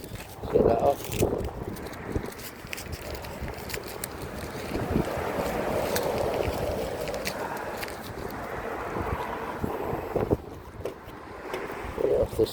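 Gusty wind buffets a car and rushes across the microphone, a steady roar swelling and fading over several seconds, with someone speaking intermittently on top of it.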